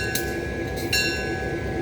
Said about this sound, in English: So now we are ready to bring our locomotive onto our turntable.